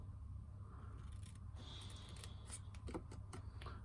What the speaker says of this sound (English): So I'm just gonna cut a slit in the middle and then cut up to that slit.